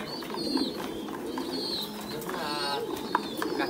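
Domestic pigeons in a breeding loft coo softly and repeatedly, their low burbling calls close by over a light background of other birds.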